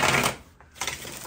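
Tarot cards being shuffled on a lap, a soft papery riffling burst, a brief pause, then another stretch of close shuffling.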